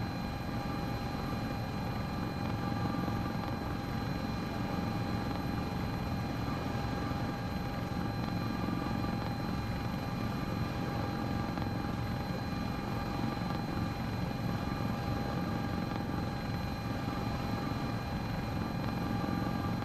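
An EMS helicopter climbs in flight at about 140 knots, its rotor and engine making a steady, loud, close drone with a constant whine and no breaks.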